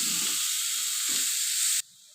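Chickpeas and corn kernels mixed with boiled milk in a hot pan give a steady, loud sizzle and hiss with a couple of soft stirring scrapes, cutting off abruptly near the end.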